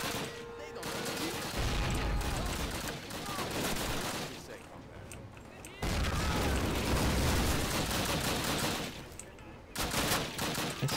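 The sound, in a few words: grenade explosion and gunfire in Call of Duty video game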